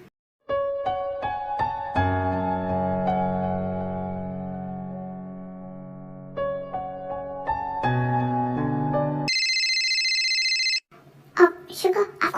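A mobile phone ringtone plays as a melodic series of tones, then shifts to a higher repeating chime before stopping, with dramatic background music and brief voices at the end.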